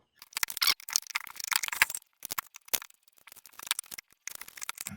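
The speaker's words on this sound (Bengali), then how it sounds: "এই যে বড় স্ক্রুড্রাইভার দিয়ে খোলার চেষ্টা করব।" Large screwdriver working loose tight nuts on a solar charge controller under repair, heard as a close series of irregular scraping clicks, ticks and metallic rattles with short pauses between bursts.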